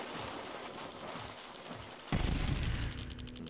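A dynamite blast in the video game Eldritch bursts in suddenly as a loud, noisy crack with rumbling decay, following a stretch of steady ambient hiss.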